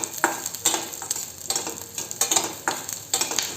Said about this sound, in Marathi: लसूण घालून घेऊ आणि आलं हे तेलामध्ये छान भाजून घ्यायचं आहे